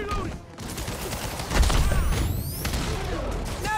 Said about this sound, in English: Firing! Stay clear! Reloading!